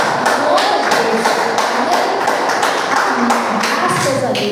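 A church congregation claps along in a steady rhythm, the close, repeated hand claps running under a speaking voice throughout.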